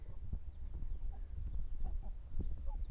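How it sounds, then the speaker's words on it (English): Chickens on a village poultry farm in Africa feeding, with scattered soft clucks and pecking over a low background rumble, fairly quiet and continuous, no talking. "we have some of the chickens here"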